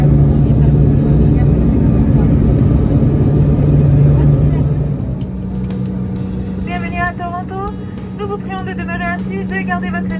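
An Air Canada airliner rolls down the runway after landing, its loud cabin roar easing and dropping in level midway as the plane slows, with faint tonal chimes or announcements afterward.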